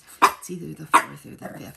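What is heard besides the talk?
dog barking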